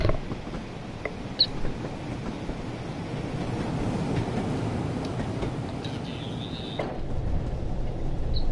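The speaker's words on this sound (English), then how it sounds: "I do go silent so you guys can hear the train" Diesel train running in the Train Sim World 5 video game, a steady low rumble and rolling rattle of wheels on track with faint clicks, continuous and fairly loud with no talking.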